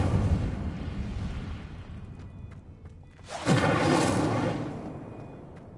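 A fiery Incendio spell blast erupts in a Harry Potter video game, a sudden loud whoosh-burst about midway that swells and then slowly fades, following a quieter stretch of low rumbling game ambience.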